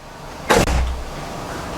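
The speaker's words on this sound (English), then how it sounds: "Just close the door." An indoor door shuts with a single firm thud and a brief rattle, fairly close and loud, followed by quiet room tone.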